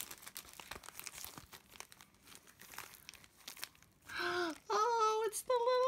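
Opening a taped Christmas gift package makes close, busy crinkling and tearing of paper and tape for several seconds, then gives way to an excited, drawn-out vocal exclamation.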